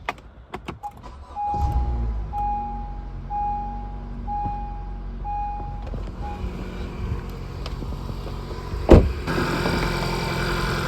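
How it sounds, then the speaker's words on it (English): Car engine cranking and catching, then settling into a steady idle while a dashboard chime beeps repeatedly; clicks and handling noises come first and a loud knock sounds near the end. "I'm going to unlock the vehicle. I'll start her up."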